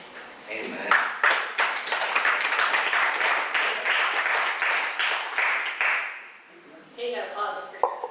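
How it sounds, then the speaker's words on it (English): Audience at a Berkshire County education task force presentation applauding, a dense run of clapping lasting several seconds that fades out, followed by a voice speaking. "Hey, you got applause, that's pretty good."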